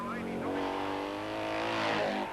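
An 1100cc Vincent motorcycle climbs the hill at the Shelsley Walsh hillclimb, a loud, rising engine note that swells as the bike accelerates close by, with a commentator talking over it.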